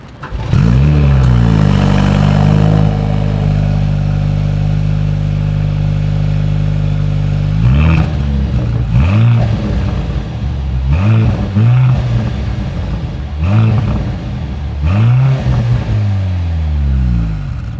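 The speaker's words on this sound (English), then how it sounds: "here is that exhaust clip" A 2024 Mercedes-AMG C 43 exhaust drones loudly at a steady idle, then gives a series of four or five sharp revs that rise and fall in quick succession, close and alone.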